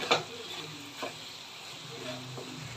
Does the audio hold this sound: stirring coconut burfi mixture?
yes